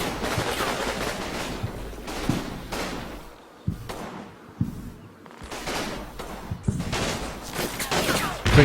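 Close-combat gunfire against German troops in Combat Mission: Battle for Normandy: dense, near volleys of rifle and machine-gun fire with sharp single cracks, briefly easing before heavy firing resumes.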